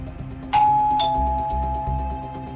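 A doorbell rings with two clear chime tones, ding then dong about half a second apart, each ringing out and slowly fading over a low background hum.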